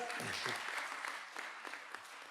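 Conference audience clapping, a brief burst of applause from a moderate crowd with a voice briefly heard over it at the start, fading as individual claps thin out.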